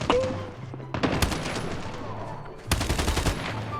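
Rapid bursts of HG40 gunfire ring out in a Call of Duty Mobile match, two loud volleys with crackling impacts, while someone speaks briefly between them.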